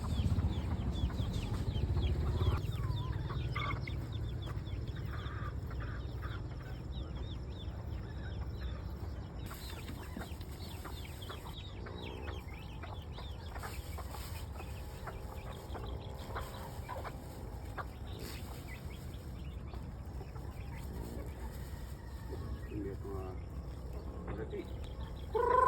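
Native chickens cluck and chatter in a farm coop during an egg harvest, with scattered soft clucks and calls over low ambient noise and a person talking now and then.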